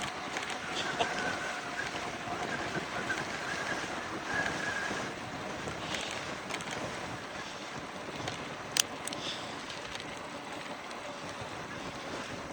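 Steady wind rushes and buffets across the microphone throughout a bike ride on a trail at about 55°F, a broad continuous roar with a few brief gusts and knocks, no clear talk.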